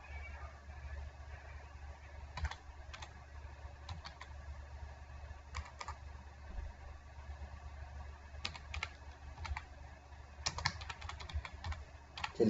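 Fingers type a name into a resume in Microsoft Word on a computer keyboard, producing quiet, rapid, uneven key clicks in brief bursts over a low steady hum, with no speech.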